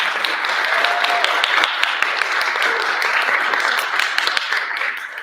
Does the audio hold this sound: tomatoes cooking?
no